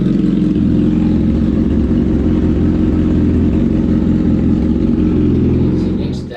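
A 2017 Honda CBR1000RR engine idling steadily during a coolant change, a loud, close, even mechanical hum with fine clatter that runs throughout and cuts off at the very end.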